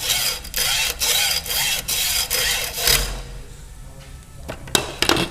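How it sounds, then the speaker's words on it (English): A fine tooth hacksaw cuts through a brake hose during a Buick Grand National Hydro-Boost install, with steady back-and-forth strokes for about three seconds. The sawing then stops, leaving a few faint clicks and taps. "You can use a chop saw or a fine tooth hacksaw to cut the hose."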